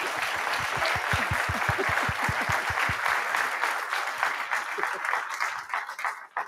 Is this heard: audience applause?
yes